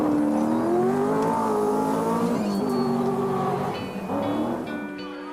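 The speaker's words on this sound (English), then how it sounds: "still thundering onwards in the Vitesse, setting fastest times on a number of stages" A Triumph Vitesse rally car engine revs and drones loudly on a rally stage, pitch rising and falling through gear changes as it races past, with some tire noise.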